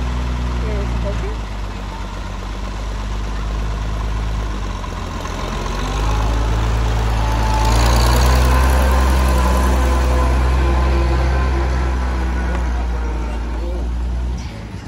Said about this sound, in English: It looks like this will be our tractor for today.